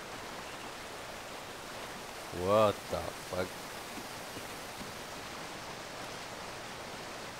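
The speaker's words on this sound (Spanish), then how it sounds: "Ocultémonos tras la cascada." Steady hiss of a waterfall in Call of Duty Ghosts, a constant soft rushing wash, with a brief exclaimed voice in the middle.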